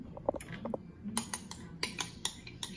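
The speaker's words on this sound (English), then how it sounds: "I'm gonna stir that in real good." A metal utensil stirs food in a pot at a home stove, producing quiet scrapes and a series of sharp clinks and taps against the pot at an irregular rhythm.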